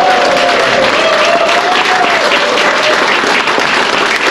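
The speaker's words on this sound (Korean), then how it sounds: "힘내시라고 박수 한번 해주세요" A crowd claps loudly and steadily throughout, dense applause filling the whole stretch with no pauses.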